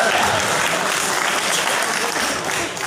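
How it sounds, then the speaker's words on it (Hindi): Audience applause at a live comedy show, loud and close, with many hands clapping in a dense continuous burst that tapers slightly near the end. "तालियां बजाओ।"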